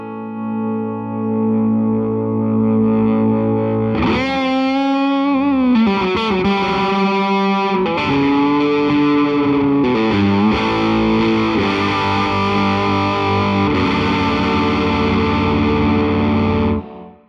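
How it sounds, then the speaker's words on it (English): A D'Angelico Deluxe Atlantic humbucker guitar through a Supro Black Magick amp gives smooth, even distortion: a sustained chord, then a run of loud strummed and picked chords that ring thickly with reverb until an abrupt stop. "it really, really distorts nicely. It's a smooth, even distortion as you roll the volume in"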